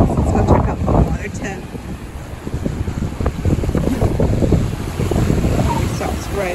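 Breezy wind blows by the water at an upstate New York shoreline, a steady rushing buffet on the microphone with surf-like wash underneath, fairly loud and continuous throughout.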